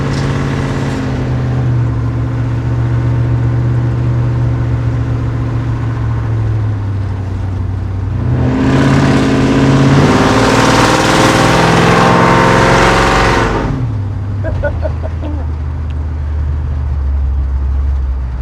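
A throaty hot rod squarebody pickup truck engine rumbles steadily while driving, then revs up into a loud roaring burst for several seconds before settling back to a deep idle.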